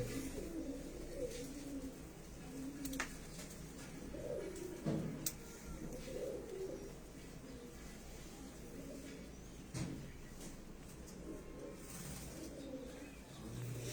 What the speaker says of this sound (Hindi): ये कसूरी कबूतर ही है ना